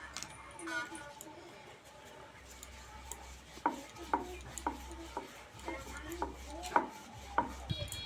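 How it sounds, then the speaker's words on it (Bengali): A rolling pin works floured dough balls into flatbread for potato spring rolls, giving soft repeated rolling strokes on a board with several light knocks and taps of the pin spaced out over the stretch. "লেচিগুলোতে আটা ছড়িয়ে এবার আমি বেলে নেব"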